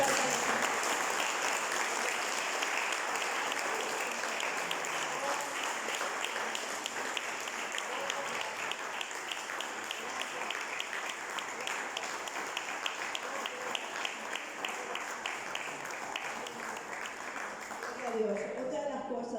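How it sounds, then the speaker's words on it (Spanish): A church congregation applauds continuously for nearly twenty seconds, a dense, even wash of many hands clapping at steady loudness that tapers slightly at the very end. "Démosle un aplauso al Señor."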